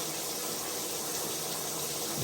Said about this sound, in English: There's the water going in, guys.